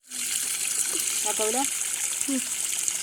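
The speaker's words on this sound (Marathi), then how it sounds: "आता हे चांगले साफ करायचे पाण्याने तीन चार वेळा" Water gushes steadily from a tap in a continuous splashing hiss while fish are rinsed, with a few brief spoken sounds over it.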